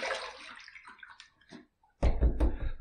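A razor is rinsed under running water while shaving, the flow splashing in short uneven bursts, then a louder gush of water near the end.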